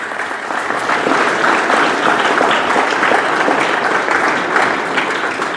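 Loud, sustained applause from a crowd at a school honouring ceremony during a mental health event, dense clapping that continues evenly throughout.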